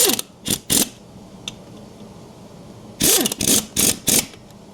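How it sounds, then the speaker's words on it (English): An impact wrench threads lug nuts onto a John Deere tractor in short, loud whirring bursts: two quick bursts and a brief tap early, then four rapid bursts in a row near the end, separated by quiet pauses. "we're just going to use the impact to thread these in"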